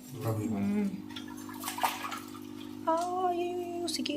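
Water poured and splashing in bursts, close and moderately loud, while people talk over it at intervals.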